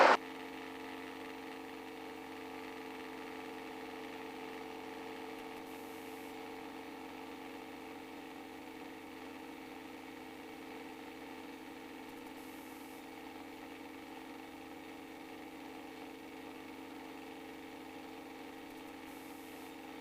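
A Robinson R22 helicopter engine runs at steady RPM, a constant close droning hum with layered harmonic tones and no talk over it.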